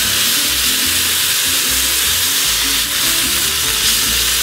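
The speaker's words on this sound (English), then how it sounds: "All we're really doing with these tomatoes is just kind of heating them through a little bit." Tomatoes with salt sizzling loudly in a hot pan for tomato and egg stir-fry, a dense unbroken hiss close to the mic over a faint low background hum, no voices.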